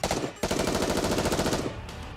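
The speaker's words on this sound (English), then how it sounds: "She proceeds to unleash a barrage of gunfire forward" A loud, rapid burst of automatic gunfire rattles continuously for about two seconds in the video game NIKKE, then cuts off into a fading echo.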